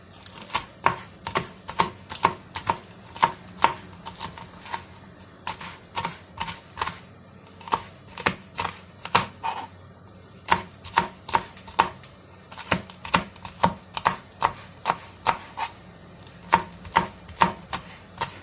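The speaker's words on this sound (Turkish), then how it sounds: "Evet bir tane biberimi acı biber doğruyorum içine." A hot pepper being chopped with a knife on a board for a village-style okra and meat stew: sharp, crisp knife strikes come in quick rhythmic runs with short pauses, close and clear, and no voices over them.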